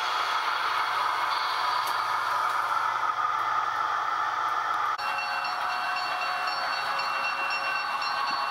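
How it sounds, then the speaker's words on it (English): A model Big Boy 4013 steam locomotive with a short US freight train rolls steadily along the track into a parking track, with a continuous mechanical whir and faint rattling, with no voices. "Big Boy 4013 with a short freight train goes back into parking track"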